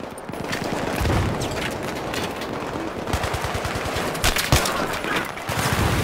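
Battlefield 3 combat gunfire on hard difficulty, with dense automatic bursts and rapid single shots crackling continuously, several loud close volleys layered over more distant firing, with no talking.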